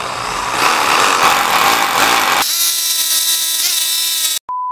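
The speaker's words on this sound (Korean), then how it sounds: "이건 똑같이 10mm로 드릴로 수평에 맞게 먼저 작업을 해주시고요." A power drill bores a 10 mm hole in a concrete wall, a loud continuous grinding whine that shifts to a steadier, higher motor tone midway, then stops abruptly, followed by a brief ringing tone.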